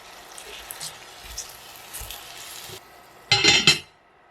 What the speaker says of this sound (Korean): 뚜껑 닫고 당근을 익히세요.